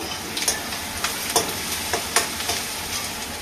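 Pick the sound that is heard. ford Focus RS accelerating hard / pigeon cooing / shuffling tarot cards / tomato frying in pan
tomato frying in pan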